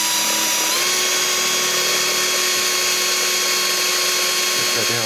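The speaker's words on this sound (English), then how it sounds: "So we drilled it with a small drill bit" A power drill with a small bit whines steadily and loudly for several seconds while drilling a hole, close by, with a faint voice underneath and the motor dropping off at the end.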